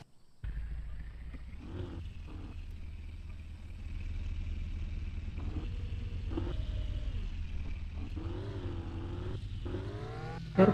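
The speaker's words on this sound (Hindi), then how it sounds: "ये रहा इंजन कैसे स्टार्ट होगा" A car engine in Car For Sale Simulator starts up and settles into a steady, close rumble that rises and falls as it is revved, with brief dips between bursts, ending in a sharp final jump.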